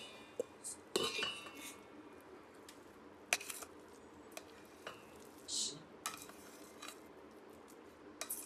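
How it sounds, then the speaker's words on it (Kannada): A cooking pot is set down and handled while temple-style wheat huggi is being prepared, giving a few sharp metallic clinks and knocks scattered over a quiet kitchen background. "ಒಂದು ಪಾತ್ರೆ ಹಾಕೋತಾ ಇದ್ದೀನಿ"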